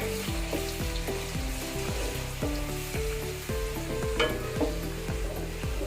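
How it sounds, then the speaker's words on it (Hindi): Chopped onion frying in oil in a pot for a large batch of chicken masala, a steady close sizzle running throughout beneath a repeating pattern of falling tonal pulses, with no speech. "ये चॉप किया हुआ प्याज मैं इसमें ऐड कर दूंगी।"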